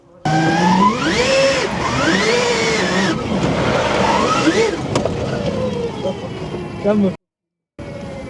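A STARK-powered Renault Twizy electric car drifts, its tires screeching in long rising and falling squeals, loud and close, with voices talking over it and a brief silent gap near the end.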